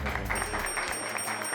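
A live audience claps on cue in a Hindi comedy scene, a short burst of dense, steady applause with a low rumble beneath it.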